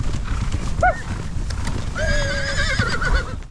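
Horses whinny in short bursts, one higher and shorter, then a long wavering neigh, over steady rumbling hoofbeats and movement of a herd of about 80 horses being driven on a ranch in eastern Arizona.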